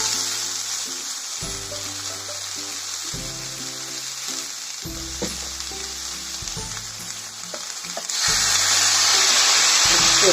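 Okra sizzles steadily in a pan while a spoon stirs it with repeated scraping knocks; the frying hiss swells louder near the end.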